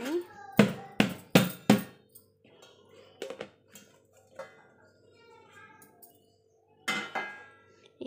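A plate is turned over and clatters against a tray or dish while a slab of homemade mysore pak is unmolded, giving several sharp, loud ceramic knocks early on and then scattered lighter clinks and taps.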